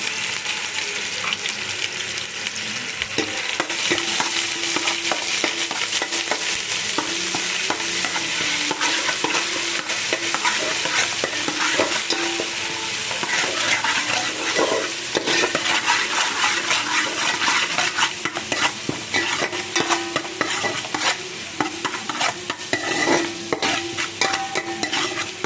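Ginger garlic paste frying and being stirred in a pot for kalan dum biryani: a steady, close hiss of sizzling oil with repeated scraping and stirring strokes throughout, no voices.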